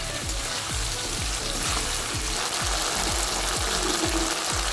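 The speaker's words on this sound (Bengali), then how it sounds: "টমেটোটা দিয়ে ভালো করে নাড়াচাড়া করে মশলাটা অনেকক্ষণ ধরে কষাবো" Tomato and spice paste frying in a pan for a Bengali pabda fish curry, a steady broadband sizzle with regular soft scraping strokes of stirring, close and continuous with no talk.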